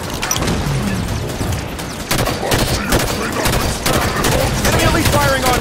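Rapid gunfire bursts and explosions in a Halo 5 Warzone Firefight battle, dense overlapping shots and booms filling the clip at close range.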